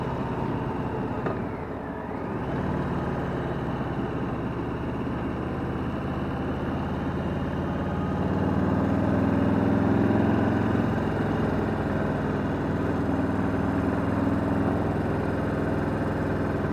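A 2020 Harley-Davidson Street Bob 107 motorcycle's engine drones steadily while riding in second gear at about 22 mph, the low rumble swelling slightly louder partway through.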